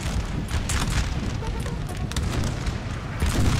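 Artillery strike explosions in Napoleon: Total War, a dense continuous rumble of booms and distant cannon fire rolling on without pause, heavy and low throughout.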